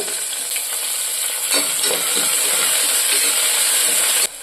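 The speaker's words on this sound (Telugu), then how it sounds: "మనం ముందే కట్ చేసుకున్న టమోటాలు అయితే యాడ్ చేసుకోవాలి" Chopped tomatoes and onions sizzle and fry steadily in a pan for a Karnataka-style bisibelebath, a constant close hiss with faint stirring scrapes, ending abruptly.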